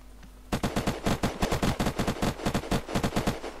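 Automatic gunfire in the survival video game Unturned rattles out in a rapid, loud burst of evenly spaced shots lasting about three seconds, sounding close and with no talk over it.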